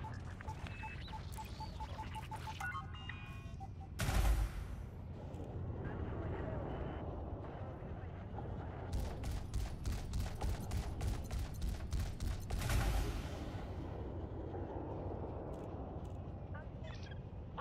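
Ship weapons fire in a medium combat zone in Elite: Dangerous, with rapid rattling bursts and a couple of heavier blasts over a rumbling engine drone, while voices speak over the action.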